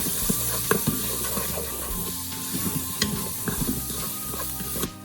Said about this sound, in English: And I'll mix that up.